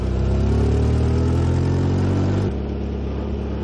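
The Birkin Blower vintage racing car's engine runs loud and close, a deep rough throb that drops to a lower steady idle partway through, with no voices.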